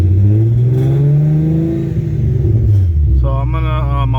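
A Nissan 350Z with a VHR engine swap, running on E85, idles just after starting with a steady, deep rumble that stays smooth, and a voice talks over it.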